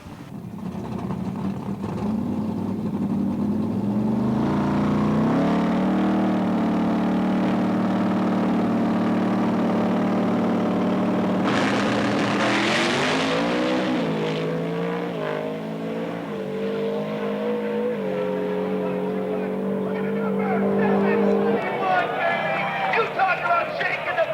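A pro street drag racing car during a third qualifying round at the World Finals in Orlando, a loud sustained engine drone that climbs in pitch through the run, heard from a distance under steady commentary.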